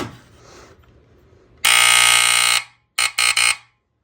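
A smoke alarm blares a loud, shrill continuous tone close by for about a second, then after a pause gives three quick piercing beeps.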